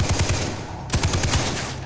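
Rapid automatic gunfire in Far Cry 3 rattles in two quick bursts separated by a brief pause, each volley a fast, close string of punchy shots.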